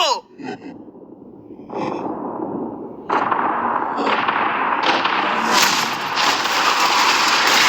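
Explosions blowing up a yacht: a few sharp bursts, then a series of stepped blasts that build into a loud, sustained roar, with gasps and vocal reactions over them.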